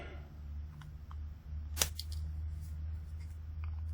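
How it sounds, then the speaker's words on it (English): A single sharp snip of cutters clipping an electronic component leg on a PICAXE trainer circuit board, one crisp click close by over a steady low mains hum. "Cut that leg off."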